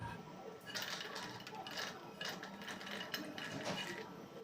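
Roasted almonds are tipped into a mixer jar with a rattling clatter of hard nuts against the container. The sound is close and fairly quiet, lasts a few seconds, and has no speech.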